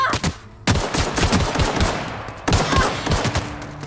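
Gunfire in The Outer Worlds, two loud close bursts of rapid shots, each starting abruptly and trailing into a rattling run, with a short quiet gap before the first.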